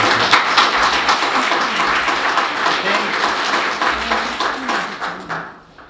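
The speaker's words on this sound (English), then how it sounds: "Let's please keep the applause down." Audience clapping and applause fill a city council meeting chamber, a dense, loud burst of many hands that carries on and fades out at the end, with some voices mixed in.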